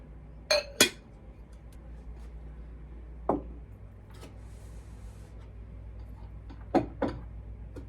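Black plastic bowls from Dollar Tree clink and tap as they are handled and set down, a few sharp, close knocks in small clusters separated by quiet stretches.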